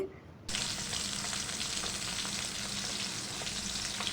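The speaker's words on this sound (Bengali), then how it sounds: "এরপর কড়াইতে সর্ষের তেল দিয়ে মাছগুলো ভেজে নিচ্ছে" Steady, dense frying sizzle of small river goby fish in hot mustard oil in a wok, beginning abruptly after a short quiet moment and continuing evenly, close up.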